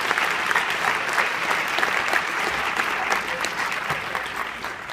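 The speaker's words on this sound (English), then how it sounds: "Can we give them one more round of applause?" A school audience claps for National Honor Society inductees. The applause is a sustained, dense round of many hands, steady throughout and tapering slightly at the end.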